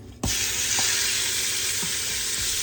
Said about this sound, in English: My oil should be hot now. I'm going to add my chicken.